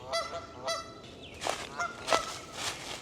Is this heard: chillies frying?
no